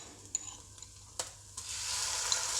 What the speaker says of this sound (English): now I'm going to add sliced ginger and some garlic